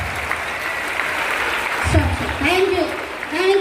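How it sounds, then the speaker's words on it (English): Students at a school investiture ceremony clap for ministers and a chief guest, a broad wash of applause that continues as a voice starts speaking over it. "Then clap for your ministers and for our chief guest."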